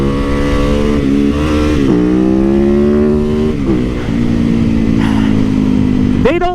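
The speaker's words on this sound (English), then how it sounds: "Number 5 on my list, guys, is the WR250X." Yamaha WR250X supermoto motorcycle engine running loud and close, with a steady revving drone that shifts pitch several times and climbs sharply in a final rev.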